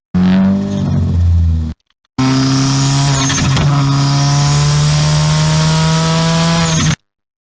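A car's engine intake and exhaust hum loudly with a steady low drone, cut briefly by a gap of silence, then resuming and holding evenly before stopping.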